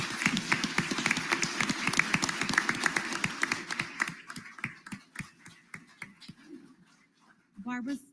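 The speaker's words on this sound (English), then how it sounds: "Let's give all of these candidates a round of applause" A small audience at a Weslaco candidate forum claps for the candidates, starting dense and fairly close, then thinning to scattered individual claps before a voice begins speaking at the end.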